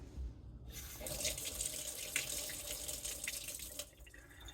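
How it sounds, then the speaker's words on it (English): Lukewarm water running from a kitchen tap to feed a sourdough starter, a steady hissing stream that starts abruptly and runs continuously, moderately close. "I will then put 250 grams of water in there."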